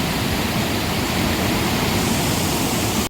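Water rushing through the Muju Gucheondong valley stream on Deogyusan: a loud, steady, broadband roar that holds constant throughout, close by, with no voices.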